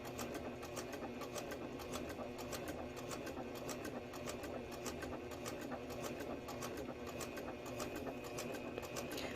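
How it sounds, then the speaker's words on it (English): Sewing machine stitching foundation paper piecing with black thread, a faint, steady, even whirr with rapid repeated ticks from the needle running throughout without a break. "we're just going to take our time and sew"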